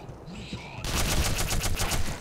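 An alien gun fires in Black Mesa, a sudden loud burst of rapid repeated shots that follows a quiet stretch with a voice talking.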